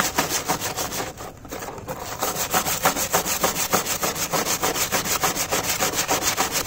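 A Yamaha XJ650 motorcycle clutch plate being abraded by hand, with a loud, close, rhythmic back-and-forth rasping scrape repeating steadily and briefly easing near the start.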